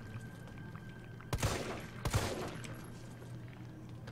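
Two loud gunshots ring out in Resident Evil 3 Remake, spaced under a second apart, each a sharp burst with a brief decaying tail over a quiet humming game background.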